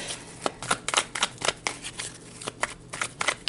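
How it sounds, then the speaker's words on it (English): Tarot cards are shuffled close up, a rapid run of papery riffles and slaps in uneven bursts. "I just really like to give them a good shuffle"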